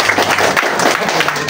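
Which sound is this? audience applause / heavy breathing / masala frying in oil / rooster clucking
audience applause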